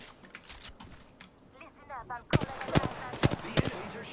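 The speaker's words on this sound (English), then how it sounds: "The enemies are shooting at me." Gunfire in the Apex Legends video game, a few sharp shots in the second half after a quieter stretch with brief game sounds, fairly faint overall.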